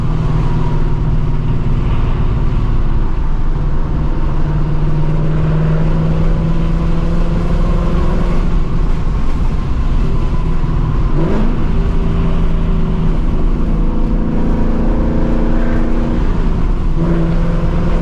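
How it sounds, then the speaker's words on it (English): Steady, loud engine drone of a straight-piped S650 Ford Mustang GT with a low rumbling exhaust note, rising and falling slightly as the car cruises, heard from inside the cabin. "I just really enjoy how modest this car sounds."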